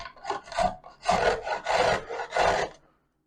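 Carrot rubbed down a hand grater, five rhythmic rasping strokes close up, each a coarse scraping burst, then stopping, with no talk.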